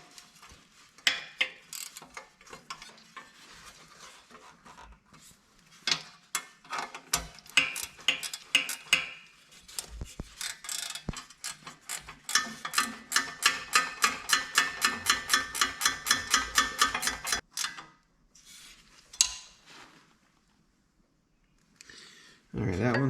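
A socket ratchet clicks in quick rapid bursts while valves are adjusted on an Ariens Zoom 54 XL riding mower engine, the ticking speeding into a long steady run before stopping, with scattered metallic clanks around it.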